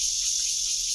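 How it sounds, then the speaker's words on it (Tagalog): Crickets in a quiet forest at a riverside cooking spot in the Philippines give a dense, continuous high-pitched trill, steady and fairly loud, with a faint low rumble beneath and no talking. "Tahimik. Ang maingay lang dito yung kuliglig."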